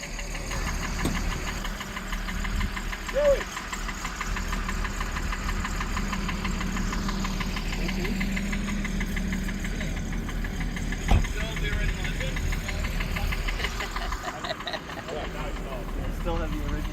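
Classic car with its original engine idling at an outdoor concours event, a steady low rumble with slight knocking texture running throughout while people talk nearby.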